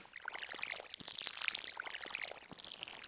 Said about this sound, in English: Now let's water our crops.